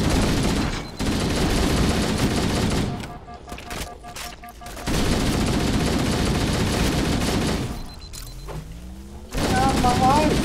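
Shotgun fire in Halo: Combat Evolved, loud booming blasts in sustained bursts with short gaps between, ending in a rising mechanical whine from the game.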